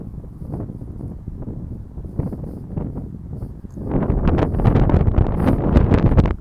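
Strong wind outside a house buffets the microphone in rough, gusty bursts, growing noticeably louder and more turbulent in the second half.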